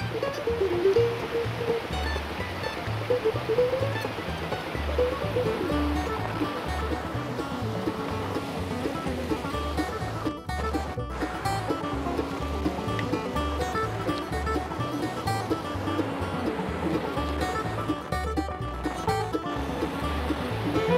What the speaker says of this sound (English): Beautiful little cascades that feed this little creek that turns into Lost Creek Falls.